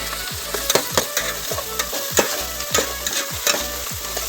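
Chicken with fresh fenugreek leaves and garlic frying in a pan, a continuous loud sizzle broken by repeated scraping strokes of a spatula stirring the mixture at a steady rhythm, with no talking.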